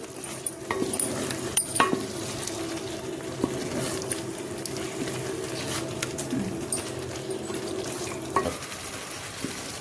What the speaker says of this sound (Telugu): ఇలా మొత్తం ముక్కకు పట్టేలాగా కలపాలండి.